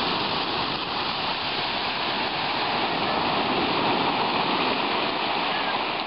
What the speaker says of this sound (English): Looks like the water column is pulsing now as that steam is building up underground.